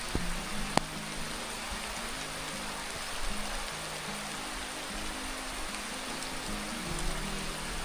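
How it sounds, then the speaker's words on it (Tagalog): Steady rain falls after several dry days, a soft even hiss of drops on a surface with a low murmur beneath. It stays constant and moderately close throughout, with one brief sharp tap near the start. "Natutuwa lang ako sa ulan."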